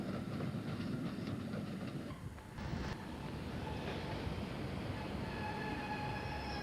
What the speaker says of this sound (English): An electric multiple unit arrives from Haywards Heath.